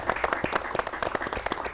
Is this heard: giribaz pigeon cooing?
no